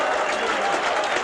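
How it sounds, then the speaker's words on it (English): A large rugby league crowd at a Warrington v Widnes match claps and cheers in a dense, sustained wave of applause, loud and continuous throughout the short stretch. "A standing ovation from the main crowd."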